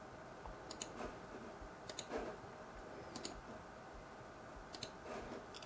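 Sparse computer mouse clicks while removing Bluetooth devices in Windows 10 device settings, small sharp ticks in pairs every second or so over a faint steady background hiss.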